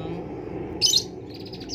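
One brief, bright chirp from a young white-rumped shama over a quiet, low background hum.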